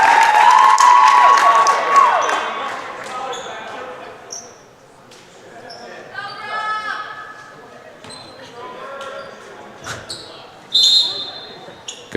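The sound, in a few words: volleyball crowd chanting Go Profs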